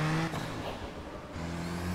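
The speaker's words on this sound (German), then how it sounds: "Ein altes Auto, aber immerhin ist der Turbo-Sound interessant." Engine of an old Group B era turbocharged car in the racing video game Project Gotham Racing 4, driven in rain: a steady droning engine note with whining harmonics that dips briefly mid-clip and then climbs back, fairly loud and with no talk.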